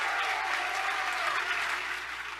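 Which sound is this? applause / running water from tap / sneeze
applause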